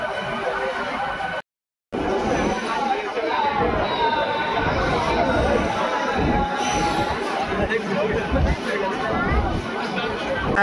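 Dense crowd chatter on a packed platform at Digha railway station on the second day of a temple inauguration, a steady close babble of many voices with a brief dropout near the start.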